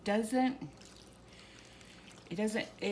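Water pours into pancake batter for Samoan round pancakes, a faint steady trickle between spoken voices at the start and end.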